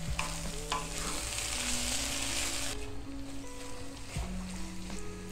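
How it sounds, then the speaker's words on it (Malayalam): Thick first-press coconut milk poured into fish cooking in a pan for banana-leaf roasted fish, giving a steady close sizzle and bubbling hiss with a pouring rush near the start, no talk over it. "തേങ്ങാപ്പാലൊഴിക്കാം."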